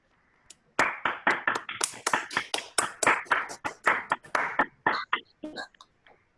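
Participants in an online Zoom meeting clap over their microphones, a quick uneven run of roughly two dozen sharp, close claps that thins out into a few scattered ones at the end.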